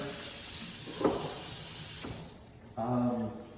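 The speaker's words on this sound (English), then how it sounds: "In the kitchen here, got the pull down sprayer." A pull-down sprayer on a kitchen faucet in a newly built house runs water in a steady hiss, cutting out briefly before a louder gush resumes, with a few clunks as the sprayer is handled.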